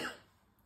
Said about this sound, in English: I start coughing